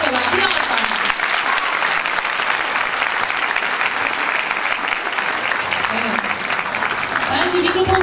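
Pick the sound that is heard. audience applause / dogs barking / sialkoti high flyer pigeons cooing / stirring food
audience applause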